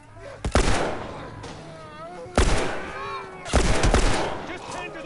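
Enemy gunfire in The Last of Us, three loud bursts of shots about a second apart, each trailing off, with voices and game sounds in between.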